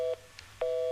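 A steady electronic telephone tone beeps on and off, two short pulses separated by a brief gap, like a line tone after a call drops.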